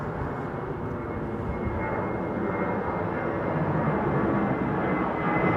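An airliner taxiing through the chicane at London Heathrow at sunset, a steady, fairly loud broadband jet engine rumble and whine held close and unbroken throughout, with no voices.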